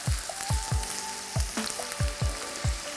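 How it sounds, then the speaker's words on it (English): Chopped onions dropped into hot oil crackle and spit in sharp, irregular pops over a continuous sizzle, close and fairly loud, with no voices. "when the oil is hot, I'm going to add in my chopped onions. I'll fry this for about a minute."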